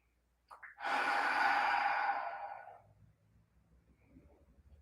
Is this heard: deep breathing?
yes